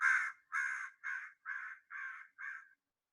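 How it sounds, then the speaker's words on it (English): Six harsh crow caws in a steady rhythm, loud and close, each call rough and insistent, with brief pauses between them. "So they're getting scolded by the crow."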